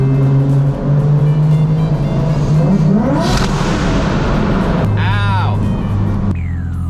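A Nissan 350Z fitted with a 1JZ engine drives through a tunnel near the Daikoku car meet, its loud steady engine drone echoing and shifting pitch. A voice speaks briefly over it.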